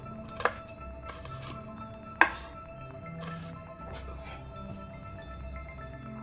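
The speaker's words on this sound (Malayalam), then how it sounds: "തൊലി കളഞ്ഞ് കഴുകി വൃത്തിയാക്കിയെടുത്ത ചെറിയ ഉള്ളിയും പച്ചമുളകും ഞാൻ ഇതുപോലെ ചെറുതായിട്ടൊന്ന് അരിഞ്ഞെടുക്കുന്നുണ്ട്" Peeled small shallots and green chillies are sliced with a knife on a board: a few sharp, close chops spaced apart, two of them noticeably louder, over a quiet background.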